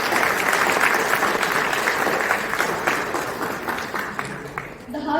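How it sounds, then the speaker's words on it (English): An audience at a children's cultural program claps after a school play. The applause is dense and sustained, thinning and fading toward the end. "I'm sure it deserves another round of applause."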